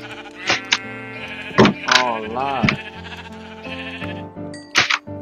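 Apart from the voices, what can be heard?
sheep bleating in Minecraft video game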